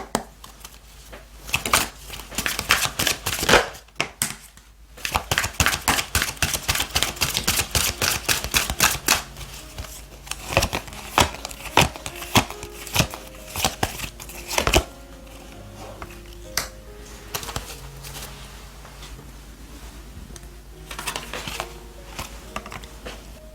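Oracle cards are shuffled for a tarot reading: rapid, fluttering riffles and snapping card bursts dominate the first ten seconds, followed by lighter, intermittent card handling over soft background music.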